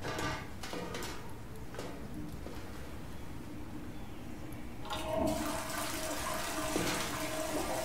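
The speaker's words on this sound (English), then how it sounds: "Can I flush the toilet?" A toilet flushes in the science-fiction horror video game SOMA, a loud, steady rushing of water that grows fuller and keeps churning for several seconds, with no talking over it.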